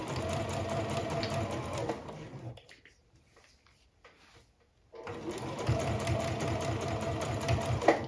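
Sewing machine stitching through fabric, running steadily and close for about two seconds, stopping into near silence, then starting up again and running on to the end.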